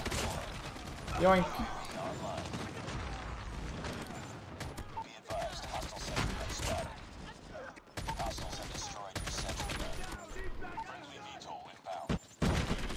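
Call of Duty Mobile hip-fire gunfire rattles in repeated bursts separated by brief gaps, close and fairly loud, with a player's voice talking over parts of the shooting.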